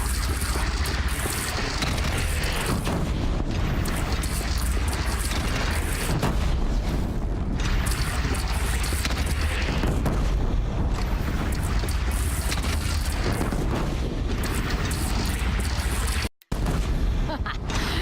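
Cannon fire and booming blasts in the video game Horizon Zero Dawn, dense continuous rumbling battle noise with repeated heavy booms, loud throughout with a brief silent break near the end.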